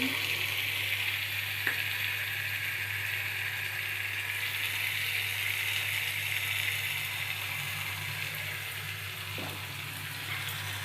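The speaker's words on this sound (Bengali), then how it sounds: "এবার ভালো করে আবার কষাবো মাংসটা" Chicken sautéed with spices in a pan sizzles in a steady, close hiss, with a low hum underneath and a couple of faint scrapes from stirring, with no voices.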